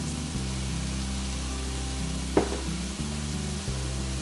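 Tomato sauce, with chopped tomato and garlic, sizzles steadily in a frying pan of shrimp cooked with white wine, a continuous close frying hiss broken by a brief clatter partway through.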